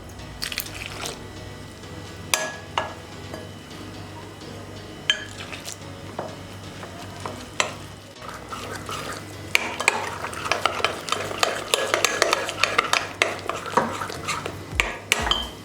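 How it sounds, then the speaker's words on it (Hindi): A spoon stirs thick besan batter with spices and a little added water in a bowl for aloo pakora, giving repeated close squelching scrapes and clinks that grow busier and louder toward the end. "अब इसमें थोड़ा थोड़ा पानी ऐड करके गाढ़ा सा मिक्सचर तैयार कर लेंगे"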